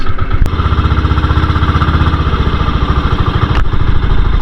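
A boat engine runs steadily close by, a loud, rhythmic chugging clatter like a small motor, with a couple of sharp knocks, on a lobster net fishing outing at high tide.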